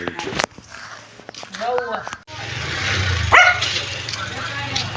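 A dog barks and yips a few times at home during an ordinary day, sharp calls rising over steady background hum, with voices and footsteps nearby.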